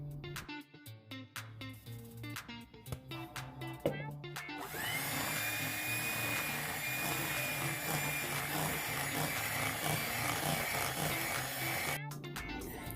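Knocks and clatter open the scene, then an electric mixer whirs steadily for several seconds while beating flour into vanilla cupcake batter, before it cuts off and a few sharp knocks return.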